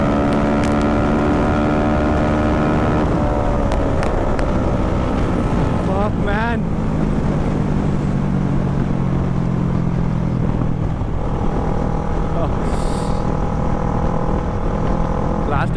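A Kawasaki Z650 motorcycle runs hard at high speed with a loud, steady engine drone whose pitch climbs, dips briefly through a gear change and climbs again, with rushing wind throughout.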